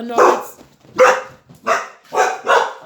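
A dog barks five times in a loose rhythm, sharp and close, each bark separated by brief quiet.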